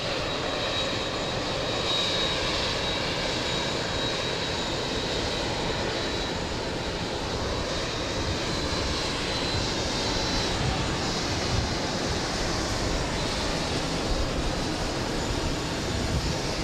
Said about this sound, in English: Dreamliner heading to gate 3.